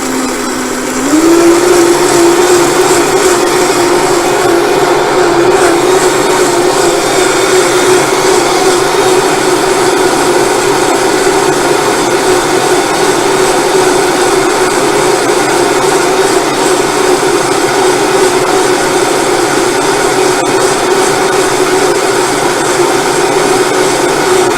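A countertop blender whirs steadily as it blends sesame seeds and water into nut milk, a loud, close, continuous grinding roar that holds level throughout with no speech over it.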